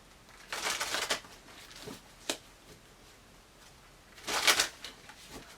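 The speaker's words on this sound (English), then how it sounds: "One more shuffle." Tarot cards are riffled and shuffled in a few quick bursts, close and fairly quiet, with soft pauses between each shuffle.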